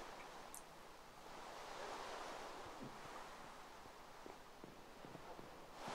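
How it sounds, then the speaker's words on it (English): A steady, even rush of falling water from a waterfall in Minecraft Xbox One Edition fills the whole stretch, broad and constant, with a few faint soft steps underneath. "This is a waterfall."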